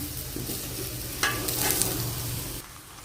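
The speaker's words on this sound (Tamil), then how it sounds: "இப்போ வந்து நம்ம முட்டை ஆட் பண்ணிட்டோம் கொஞ்சம் நல்லா வேகட்டும்" Eggs cooking in a pan alongside vegetables, a continuous low sizzle with a couple of brief spatula scrapes, close and fairly quiet, no voices.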